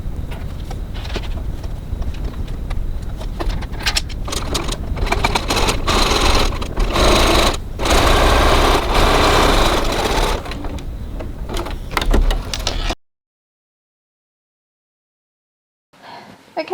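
A sewing machine stitches a zippered slip wallet, running in loud, close bursts of rapid clattering for about thirteen seconds before stopping abruptly into silence.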